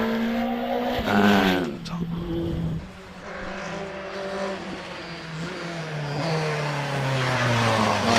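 A Renault 2000 race car launches off the line at a Prescott club hill climb, its engine revving hard through rising and falling pitch sweeps, loud and close, with a brief word spoken over it.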